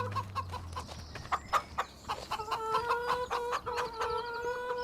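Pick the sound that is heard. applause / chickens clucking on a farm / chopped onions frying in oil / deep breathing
chickens clucking on a farm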